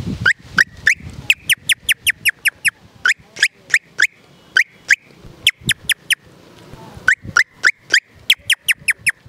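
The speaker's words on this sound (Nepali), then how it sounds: "अब मैनाचरीको आवाज मैना चरा" Common myna calling in a rapid series of sharp, loud whistled notes, repeated in quick bursts with brief pauses between them, close and clear with no talking.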